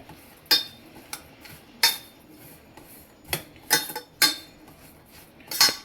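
A utensil stirs freshly squeezed lemon juice with salt in a bowl for a Maharashtrian chutney, making a series of close, sharp clinks and scrapes against the dish at an irregular pace, with no talk.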